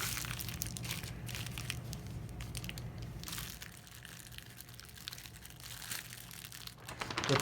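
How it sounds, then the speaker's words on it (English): A basic plastic bag crinkles and crushes steadily for several seconds while being handled to hold a multi-tool for leather sheath molding, close and fairly loud, with an electrical hum underneath. "I'm just going to use a real basic plastic bag here"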